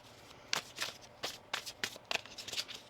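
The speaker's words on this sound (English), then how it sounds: "One more shuffle here." Tarot cards are shuffled by hand in a quiet room, a string of crisp riffling bursts repeating about every half second, close and fairly soft.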